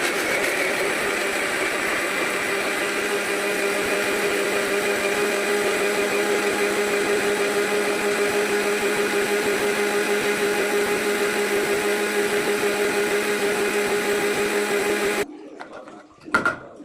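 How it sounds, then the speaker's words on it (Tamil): Halved tomatoes are ground in a mixer grinder jar, a steady loud motor whine with a constant hum that runs unbroken for about fifteen seconds, then stops with a few clunks of the jar. "வந்து மிக்சி ஜாரில் அரைச்சி எடுத்துக்குவோம்."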